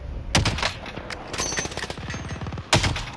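Gunfire in Call of Duty Modern Warfare, sharp shots and a rapid stuttering automatic burst, near and loud, with a final crack toward the end.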